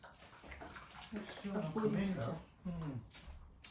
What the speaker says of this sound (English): So then I'm going to fill my jars and the bowl with boiling water